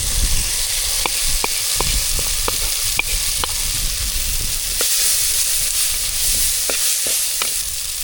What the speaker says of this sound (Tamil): இது கூட வாழைப்பூவையும் சேர்த்துக்கலாம் சேர்த்து நல்லா எண்ணெயிலே வதக்கிடுங்க